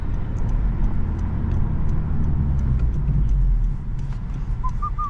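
A turbocharged Honda Civic Si drives on the road, giving a steady low engine drone with close road rumble that eases slightly near the end, and faint chirps in the background.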